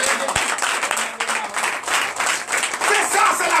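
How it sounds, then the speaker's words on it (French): A church congregation at a Sunday service applauding, dense continuous clapping from many hands that swells and dips in waves, with voices mixed into the crowd noise. "Donnez encore de vive acclamation"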